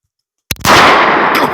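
A single shotgun blast goes off right up close after a moment of silence, very loud and sharp, followed by a long, harsh ringing roar that stays strong to the end.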